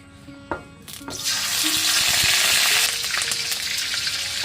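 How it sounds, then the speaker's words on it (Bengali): Bay leaves hit hot oil, then onion paste is added for a spiced beef liver dish, and a few sharp pops give way to a loud, dense, continuous sizzle that stays close and steady with no voices. "দিয়ে দিচ্ছি তেজপাতা তেলের ভিতরে দিয়ে দেব পেঁয়াজ বাটা"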